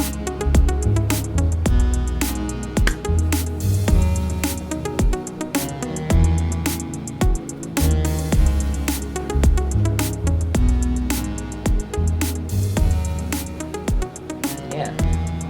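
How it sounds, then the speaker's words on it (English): A pop beat built with stock FL Studio plugins plays steadily, with punchy drums, a bass line, chords and an added counter melody in the chorus section, dense and loud with no talking. "you want to just add your counter melody in at the chorus part"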